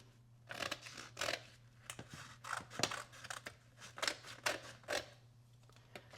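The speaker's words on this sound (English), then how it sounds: "this leather will come up like this, and then we'll cut through here" Scissors cut through leather for a holster pattern in a series of close, crisp snips, about a dozen uneven strokes over a low steady hum, with no talking.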